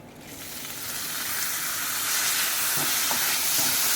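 Spiced atta and dal mixture roasting in a pan over a gas flame, a steady close sizzle and hiss that slowly grows louder, with faint stirring scrapes near the end.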